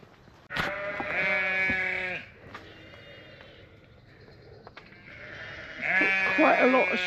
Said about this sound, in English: A lot of bleating going on.